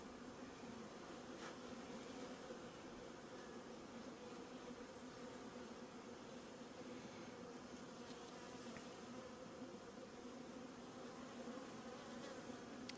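Honey bees from a young-queen colony buzzing around an open hive during an October inspection, a continuous low drone close by with no talking.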